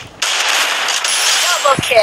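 Gunfire in the Free Fire video game during a 4v4 custom match, a loud dense burst of rapid shots filling the clip, close and harsh, with faint game sounds near the end.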